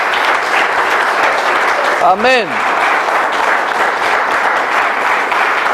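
A church congregation applauds at a Spanish-language worship service, a dense, steady wash of clapping throughout, loud and close, with a voice briefly calling out over it.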